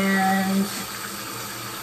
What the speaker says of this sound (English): Okay, so I'm gonna rinse my face